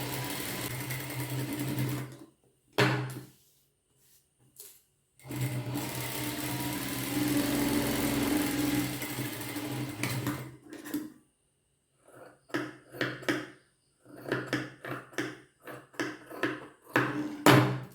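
A sewing machine stitches fabric pieces in bursts of steady whirring, first in two long runs and then in a string of short, sharp stops and starts, close and loud, with no talk.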